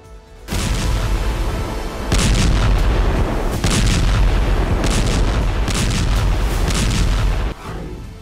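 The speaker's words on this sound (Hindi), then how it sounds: "रिहायशी इलाकों पर बमबारी" Bombing explosions strike residential areas in Gaza: heavy, booming blasts and rumbling detonations come one after another in a dense, continuous barrage, loud and close, with short rolling bursts layered over a deep roar.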